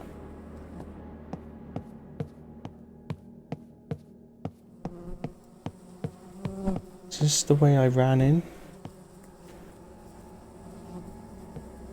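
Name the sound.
buzzing flies in the video game Close to the Sun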